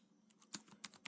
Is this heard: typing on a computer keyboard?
yes